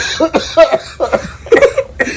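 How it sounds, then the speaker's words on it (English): Several harsh, close coughs come in quick bursts, one after another, with short gasping breaths between them. "Oh, I started coughing there."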